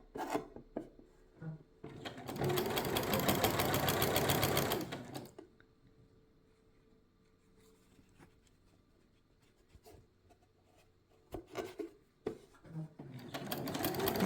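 A Janome sewing machine stitches a quarter-inch seam in quilt fabric: a close, steady mechanical whir for about three seconds, then quiet, then shorter bursts of stitching near the end.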